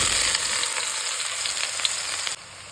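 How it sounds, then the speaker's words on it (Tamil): Soaked meal maker soya chunks fry in oil in a kadai, giving a close, continuous hissing sizzle that holds steady throughout with no voices. "லேசாக எண்ணெயில் பரட்டியாச்சு."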